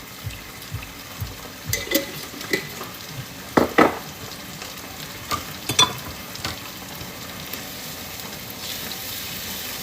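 Fresh garlic sautés in a pan for a stewed bean and shrimp dish, a soft continuous sizzle broken by scattered scraping stirs and clinks of a utensil.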